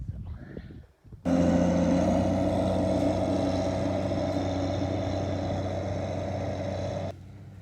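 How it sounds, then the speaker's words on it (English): A farm machine dumping manure onto a stockpile roars loudly and steadily with a deep engine drone for about six seconds, following a short stretch of indistinct low rumbling and a brief lull. "he's just dumping some of this manure over here for stockpile"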